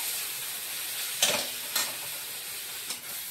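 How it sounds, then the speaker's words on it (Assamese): Spices, fenugreek, salt and onion fry in a pan with a steady soft sizzle, broken by a few short scraping stirs of a spatula. "তাৰপিছত ধুনীয়াকৈ মই এইটো মিলাই ল'ম,"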